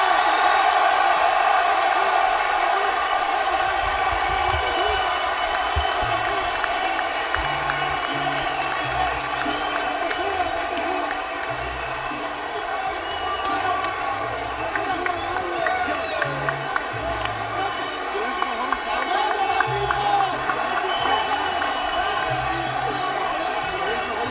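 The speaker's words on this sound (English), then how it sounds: "The crowd still cheering, standing up." A boxing arena crowd in Carson, California cheers on after the final round, a dense, sustained roar of many voices that holds steady throughout without letup.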